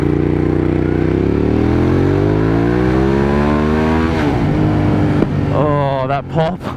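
A Hyosung GT650R motorcycle engine revs up with a rising, harmonic drone, then the revs drop and a sharp exhaust pop cracks out near the end, close and loud, with a voice speaking briefly over the sound.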